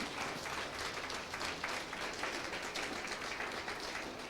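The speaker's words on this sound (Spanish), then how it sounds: "Vamos a darle un fuerte aplauso a él." A congregation applauds strongly during a sermon, a dense, continuous wash of many hands clapping at once that holds steady throughout.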